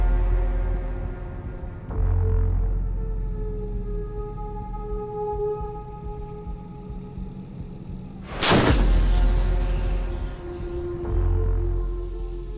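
A K9 Vajra self-propelled howitzer fires a single loud, sharp blast partway through, preceded and followed by a low droning engine hum and rumble.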